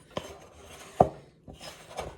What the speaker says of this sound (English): So scrape it all out of the bowl.